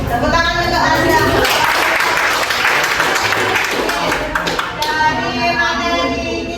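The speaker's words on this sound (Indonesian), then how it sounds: "Tepuk tangan untuk Azam" A school audience applauds Azam at a youth reproductive-health session, steady clapping filling the room with voices mixed in underneath and a brief swell near the end.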